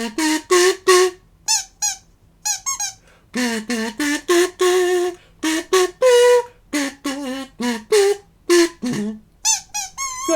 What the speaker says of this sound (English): Frank's squeaky toy trick.